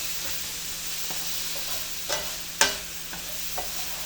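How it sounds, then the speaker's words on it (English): Herbes de Provence, pepper and pink Himalayan salt stirred in a pan, with a quiet hiss underneath and a few soft scrapes and one sharper clink partway through. "and give that a little stir around."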